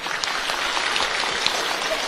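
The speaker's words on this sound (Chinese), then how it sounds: "鼓掌" An audience claps steadily at a Buddhist dharma teaching session, a dense, even wash of applause lasting about two seconds with no voices over it.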